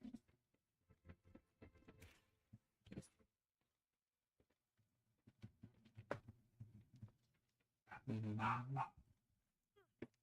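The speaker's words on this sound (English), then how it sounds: "My dog is barking!" A pet dog barking in the background at home, several short faint barks scattered across the stretch and a louder burst near the end, with quiet room noise and some speech.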